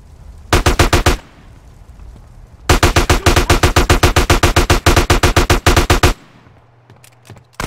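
Gunfire in GTA San Andreas, a short rapid automatic burst followed after a pause by a longer sustained volley of evenly spaced loud shots, then a few faint trailing clicks.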